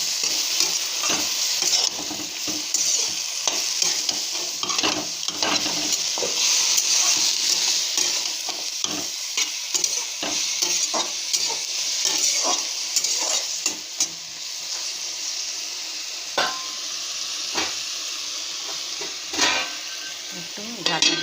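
Spinach with salt and turmeric is stirred in a pan, a continuous loud sizzle broken by repeated scraping and clacking strokes of the spoon against the pan all the way through, with no voice.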